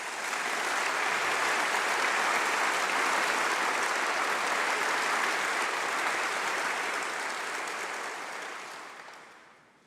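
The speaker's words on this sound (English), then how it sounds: "I think that deserves a huge round of applause" An audience at a university summer graduation congregation gives long, dense applause, steady and full for several seconds before gradually fading out, with no voices over it.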